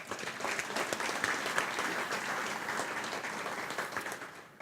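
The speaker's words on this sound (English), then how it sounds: "Please give them all a round of applause." Sustained audience applause at a high school ribbon cutting ceremony, a dense, steady wash of many hands clapping at moderate distance, holding evenly for several seconds before easing slightly at the end.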